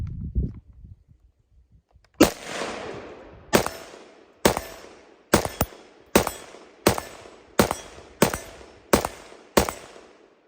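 Ten sharp, loud gunshots from a Steyr AUG A3 rifle in 5.56 NATO, fired one at a time at a steady pace, each with a short echoing tail, preceded by quiet handling noise.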